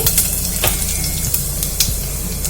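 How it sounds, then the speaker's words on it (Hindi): Cumin seeds sizzle and fry in a spoonful of hot oil for Mumbai-style kanda poha, giving a steady close crackle with small pops and a faint watery hiss and no talking. "तेल गर्म हो चुका है, अब उसके अंदर जीरा डालेंगे।"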